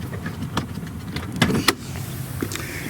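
A power trunk lid on a 2009 Mercedes-Benz E63 AMG closing, a steady motor whir with a few sharp clicks and a latching thunk near the middle, close by.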